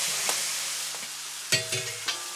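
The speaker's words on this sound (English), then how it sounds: "If you're using fresh beef like this, you want to brown it first" Fresh beef browns in an oiled pan over a steady background sizzle, with a few sharp clicks and scrapes of stirring breaking through, the cooking done in 18th-century style.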